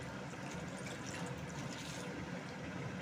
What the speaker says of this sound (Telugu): ఒక గ్లాసు వాటర్ పోసుకోవాలి ఫ్రెండ్స్